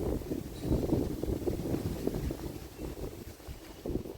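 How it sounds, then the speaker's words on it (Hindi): Strong wind blows outdoors, buffeting the microphone with a continuous low rumble that surges and eases throughout, with no voices. "बहुत तेज़ हवा चल रही है"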